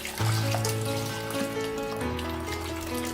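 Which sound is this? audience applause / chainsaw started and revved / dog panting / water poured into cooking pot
water poured into cooking pot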